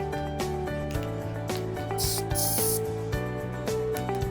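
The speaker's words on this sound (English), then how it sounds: "So I just spray a little glue" Spray glue hisses onto a floral arrangement in a short burst of airy spray lasting under a second, heard over steady background music.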